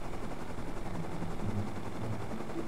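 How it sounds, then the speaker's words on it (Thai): In the game Rust, a helicopter flies close by with a steady, fast, throbbing rotor beat that holds through the whole stretch at moderate loudness. "เฮลิคอปเตอร์อีกอันนึง"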